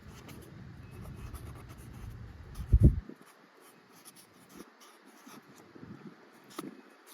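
Marker scratching firmly across a paper shooting target at a rifle range while labeling 6mm Rem loads, a close, rough scribbling for about three seconds with one louder stroke, then near quiet.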